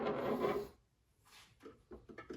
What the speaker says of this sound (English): Just kind of take your screwdriver, pry that little C-clip out.